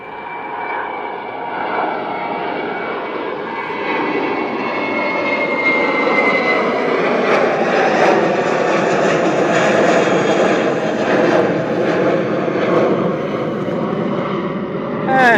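A Jetstar Airbus A320 airliner takes off from Christchurch Airport and climbs steeply, its jet engines roaring loud and steady. The roar swells toward the middle and holds with no voices over it.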